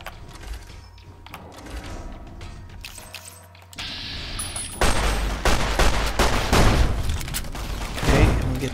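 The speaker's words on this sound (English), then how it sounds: "Watch out for the turrets." Turret gunfire in Fallout: New Vegas, starting as scattered mechanical clatter and building into loud, dense bursts of rapid automatic fire with booming impacts that keep going to the end.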